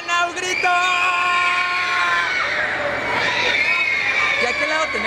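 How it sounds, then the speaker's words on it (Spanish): Fans scream at an autograph signing in a Querétaro shopping mall, a loud, sustained crowd of high-pitched shrieks and yells close by, with a voice talking over it. "un grito."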